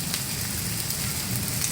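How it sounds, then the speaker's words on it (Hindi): Rain falls steadily in Khanpur, a dense, even hiss of drops on surfaces close by with no voices over it. "बारिश लगी हुई है"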